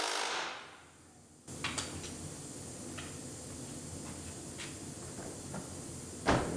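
A Lexus IS 250 door, refitted after side-collision damage, swings shut with a solid thump, followed by quieter clicks and light handling noises and a final firm closing thud near the end.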